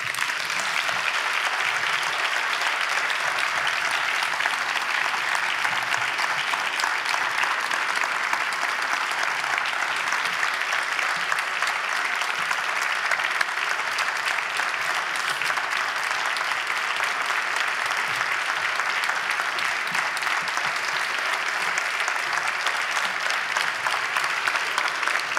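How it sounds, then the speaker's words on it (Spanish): Long, sustained applause from an audience at the Premio Festival Eñe award ceremony, dense and even clapping at full strength for the whole stretch, with no speech over it. "quiero que le recibamos con un grandísimo aplauso"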